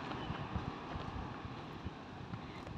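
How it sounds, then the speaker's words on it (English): Gusty wind buffets a microphone outdoors near a road, a steady rumbling roar with low thumps that runs the whole time. "it's really windy"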